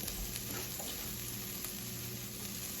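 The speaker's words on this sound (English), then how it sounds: "We're going to stir until fragrant, until you can smell it on top of the onion." Onions and ground spices, including coriander, are stirred in a hot pan, making a low, even sizzle with faint scrapes of the utensil and no talking.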